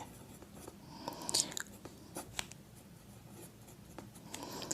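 Pen writing out a math solution on paper, with scratchy strokes and a few sharper taps, fairly close and quiet, with no talk.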